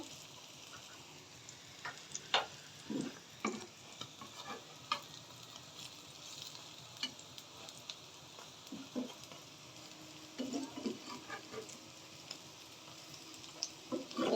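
Lentil fritters frying in oil with a quiet, steady sizzle, broken by scattered clinks and scrapes of stirring.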